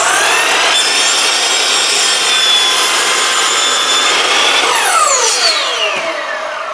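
A hand saw cuts through wood to shorten parts for a T-bucket hot rod roadster build, a loud, steady rasping that runs continuously close by, with the strokes thinning and fading near the end; no one speaks.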